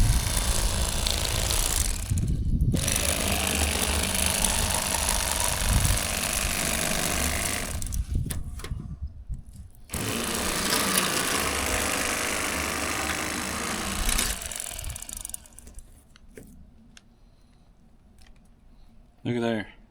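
Electric fillet knife buzzing steadily as it cuts through a good-sized bass, a loud continuous motor whine in long stretches broken by short pauses, with talk in between.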